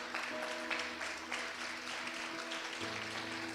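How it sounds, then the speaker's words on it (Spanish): Church congregation at a Spanish-language service claps together in sustained applause, steady and moderately loud over a held organ or keyboard tone, with no clear talking. "Dale un aplauso al Señor."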